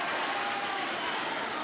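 A basketball crowd cheers and applauds at a boys' high school game after a lay-in, a steady, dense roar that fills the gym for the whole moment without letting up.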